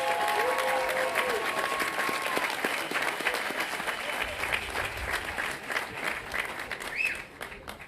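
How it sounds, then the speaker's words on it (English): A seated audience at an outdoor groundbreaking ceremony claps together in a dense, sustained round of applause that stays strong for several seconds before thinning and fading out near the end, with a few faint voices underneath. "Can we first just have a round of applause for Drew and the great leadership that he's"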